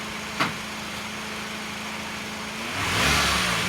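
A Peugeot VTi petrol engine idles with a steady low hum, gets a short blip early on, then is revved up near the end, swelling into a louder, rising drone close by.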